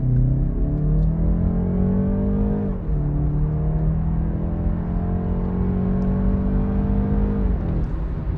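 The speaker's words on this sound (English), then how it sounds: "So let's experience how it pulls away." A 2023 BMW 330i sedan pulls away and accelerates hard, its engine note rising steadily through the gears with a brief dip at a shift, loud and continuous from inside the cabin.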